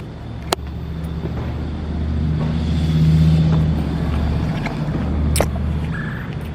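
Idling engine of a straight-piped Dodge Charger R/T after a cold start, a loud, steady low rumble that swells slightly and settles, with a couple of sharp clicks and no talk.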